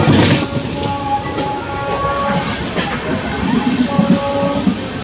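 A late-running passenger express rumbles loudly and close on the rails, with a continuous roar, clacking wheels and faint tonal squeals throughout.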